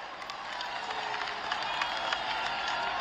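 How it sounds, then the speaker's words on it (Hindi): A crowd at a political rally in Raipur for Prime Minister Narendra Modi claps in sustained, dense applause, many hands blending into an even roar. "एक बार जोरदार तालियों के साथ आप सभी का स्वागत।"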